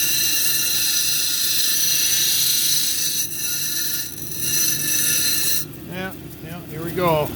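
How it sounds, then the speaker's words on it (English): A bloodstone cabochon being ground and domed on an 80 grit lapidary wheel, giving a steady, loud whirring hiss throughout with a brief interruption partway, and a voice talking over the grinding near the end. "then I'll start on the 80 grit wheel and start doming it"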